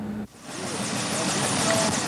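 Helicopter flying over a quake-damaged city after the 1989 earthquake, a steady broadband rotor and engine drone that holds loud and continuous after a brief cut, with a voice talking over it.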